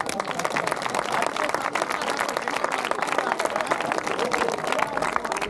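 An audience applauds, a dense, even wash of many hands clapping at once that stays loud and continuous throughout, with voices faintly mixed in underneath.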